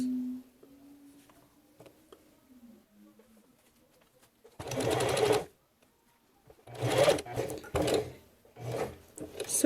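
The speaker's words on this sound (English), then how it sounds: "So I'm gonna stitch all the way down." A domestic sewing machine stitches a seam on fabric for a dog coat in short bursts: a quiet whirring run, then two louder rapid stitching runs separated by near silence, with faint handling noises between.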